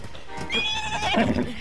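A horse in Zelda: Breath of the Wild neighs in one clear, fairly loud whinny with a falling, wavering pitch over a faint background of game sound.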